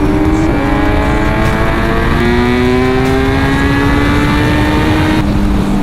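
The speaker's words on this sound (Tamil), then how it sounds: "Exhaust sound Quickshifter mass sound பாத்தீங்களா?" Kawasaki Z900 motorcycle with an LV full-system exhaust and quickshifter, loud and continuous as it pulls up through the gears with steady rising engine tones and quick seamless shifts, no talk.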